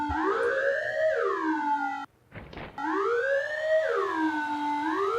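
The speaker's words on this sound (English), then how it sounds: "What the hell is that siren?" A loud, close siren wails in long rising and falling sweeps, cuts out for a moment while a brief clatter sounds, then resumes its wailing cycle, with no voices.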